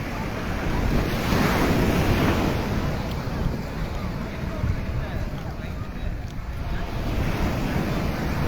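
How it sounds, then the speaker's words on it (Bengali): Sea waves surge and crash continuously onto a beach in Chennai at night, a loud, steady roar with wind buffeting the microphone throughout. "ঢেউগুলো কিন্তু মারাত্মক"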